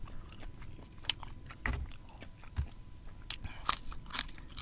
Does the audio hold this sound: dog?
no